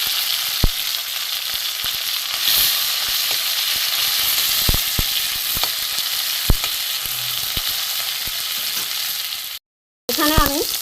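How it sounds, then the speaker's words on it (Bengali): Okra and tomato fry in a pan with a loud, continuous sizzle and hiss, broken by occasional clicks of stirring and a brief gap near the end, without talk. "মাঝখানে আমি একটু সরিয়ে আগে আমি টমেটোটা ভেজে নেব।"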